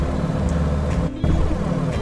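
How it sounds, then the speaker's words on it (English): Old piston airplane engines run steadily in Microsoft Flight Simulator, a continuous low droning rumble with a brief dip in the middle, heard alone. "I still hear the engines running."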